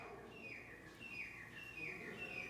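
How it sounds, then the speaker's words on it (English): A bird calls outside at night near Bhangarh Fort, heard from a dark interior: a few faint, thin chirps repeated over about two seconds against a quiet background hiss, with no voices. "I can hear a bird out there"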